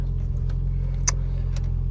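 Car engine idling steadily after an oil and cabin air filter change, a low continuous hum close by with a few faint clicks, no talking.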